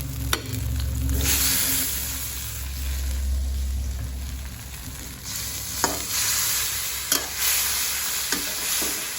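Stingray pieces sizzle and fry in curry paste in a hot pan while a utensil stirs and scrapes, with occasional sharp clinks against the wok.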